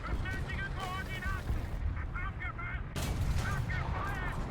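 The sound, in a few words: gunfire in War Thunder video game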